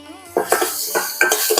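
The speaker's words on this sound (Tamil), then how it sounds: "கார்லிக்கை வதக்கிட்டு" Finely chopped garlic sautéed in butter in a pan for Mexican rice, heard as a few clinks and scrapes of a utensil against the pan over a soft sizzle, close and clear with no voices.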